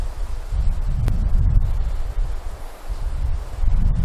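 Gusting wind roars through the woods with loud, continuous low rumbling buffeting and rustling leaves. The gusts swell and ease but never stop. A dog is along on this solo canoe camping trip, though it makes no sound.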